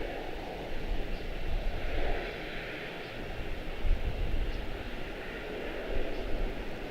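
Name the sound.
airliner in retro livery taxiing to park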